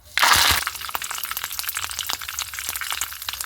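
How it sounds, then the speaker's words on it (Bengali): Curry leaves dropped into hot oil give a sudden loud burst of spattering, then settle into dense crackling and popping sizzle close by, with no talking. "এবার কারি পাতাগুলো ভেজে নেব"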